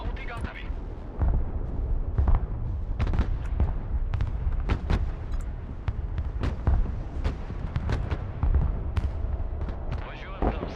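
Mobile artillery in a war video game fires repeatedly, a rapid series of sharp booms and cracks with rumbling echoes scattered across the whole stretch at moderate loudness.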